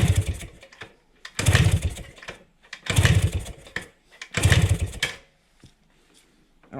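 A 1971 Kawasaki F7 motorcycle engine idles unevenly while cold, surging in loud rough bursts about every one and a half seconds and dropping to near quiet between them.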